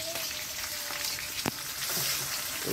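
Chopped onion going into hot oil in a pan for sambar gives a steady sizzle and frying crackle, close and alone, with a brief sharp clink partway through.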